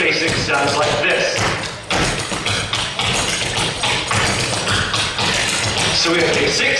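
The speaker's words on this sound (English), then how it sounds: "an Irish basic sounds like this" Irish step dance basic footwork: a quick, steady run of hard taps and thuds on the floor, loud and close, over a busy, dense background with no speech.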